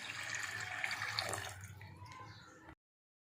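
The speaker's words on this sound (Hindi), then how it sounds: "1 कटोरा इसमें पानी का जाएगा।" Water streams steadily into a pot for cooking chicken pulao, close and fairly loud, then stops abruptly near the end.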